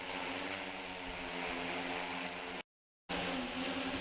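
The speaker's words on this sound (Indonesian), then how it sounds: "Launching penyemprotan pupuk organik cair dengan drone dilaksanakan di Desa Musir Lor, Kecamatan Rejoso, dan dihadiri Yudi Ernanto" An agricultural drone sprays liquid organic fertilizer over farmland in Musir Lor village, Rejoso, giving a steady, close droning buzz with a low hum that cuts out briefly before resuming.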